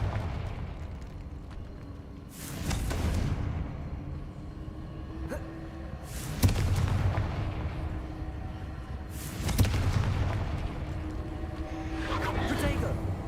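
Fire-blast spell in the Hogwarts Legacy video game: several booming, crackling explosions burst out a few seconds apart over a rumbling game soundscape, with spoken talk alongside.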